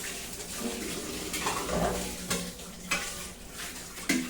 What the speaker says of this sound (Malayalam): അപ്പൊ നമുക്ക് പാത്രമൊക്കെ കഴുകാം